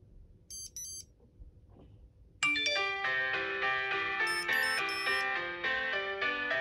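A Eufy SmartLink tracker plays its alert tune: after a few faint high chimes, a loud, bright electronic melody of ringing tonal notes starts and keeps going close by, with no talking.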